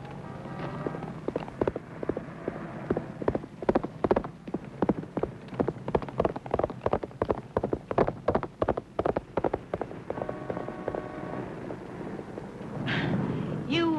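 Horse hooves clip-clop in a steady, fairly loud rhythm, with dialogue running over the hoofbeats throughout a vintage 1948 Western film scene.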